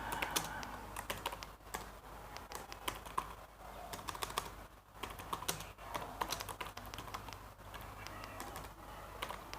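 Steady, fast typing on a computer keyboard with dense irregular keystrokes close by, while faint pigeon or dove coos sound in the background.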